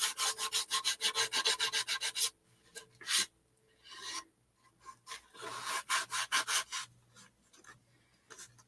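Sandpaper rubs along the painted edge of a wooden door hanger in quick rhythmic strokes, close and fairly quiet, with bursts of scraping separated by short pauses.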